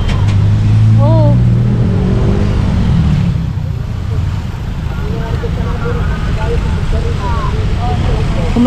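Heavy road traffic on the way to Tagum, Davao: a steady, loud engine drone with a vehicle revving and passing close by, continuous throughout, with no one talking.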